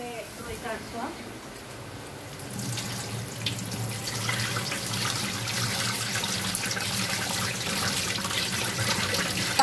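Dried shrimp being rinsed under a running kitchen tap, a steady broadband rush of flowing water that swells after the first couple of seconds and continues loud to the end, with no talk.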